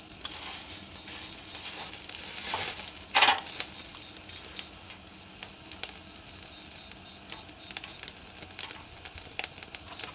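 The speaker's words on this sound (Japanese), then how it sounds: "皮目をよく焼きます。" Fish skin searing on a grill net at a garden barbecue, a steady crackling sizzle with a sharp burst of spitting early on, then scattered pops and ticks continuing throughout.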